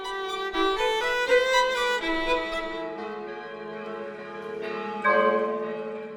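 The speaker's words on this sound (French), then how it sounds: "Toutes les cloches de Manhattan se mettent à carillonner à l'unisson" Church bells across Manhattan peal together in unison on a Sunday evening, a dense, sustained wash of overlapping ringing tones with fresh strikes swelling in at intervals, loud and alone with no voices.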